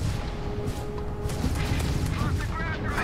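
Continuous rumbling explosions and weapon fire from ship-to-ship space combat in Starfield, dense and steady with scattered booms under a busy game soundscape, with voices faintly present.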